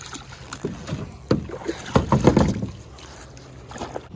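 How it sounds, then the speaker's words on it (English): Kayak paddle strokes splash and gurgle in lake water at an uneven pace, with soft wind noise in the background; no voices. "once I left the boat launch and started paddling away"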